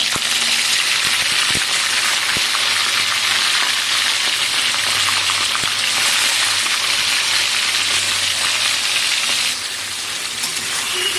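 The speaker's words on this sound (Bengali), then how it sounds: "তেল গরম হয়ে গেছে, এখানে মুরগির মাংসটা দিয়ে দিচ্ছি।" Chicken pieces for Afghani chicken fry in hot oil in a wok with a loud, close, steady sizzle that runs without a break, easing slightly near the end.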